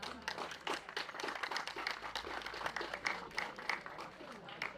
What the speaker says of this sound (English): a lot of pictures and applause for Group D